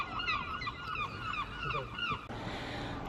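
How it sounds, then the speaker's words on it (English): Seagulls calling by a seaside quayside, a rapid series of repeated honking cries over steady outdoor background noise, fairly distant, with no talking. "It's a noisy seagull day."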